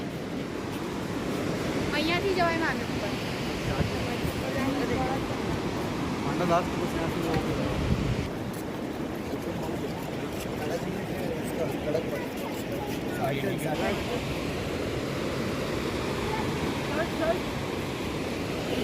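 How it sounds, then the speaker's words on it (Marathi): A mountain river near Mana village by Badrinath rushes below in a continuous broadband roar, steady and fairly loud throughout, mixed with wind noise on the microphone. "खालून नदी वाहते"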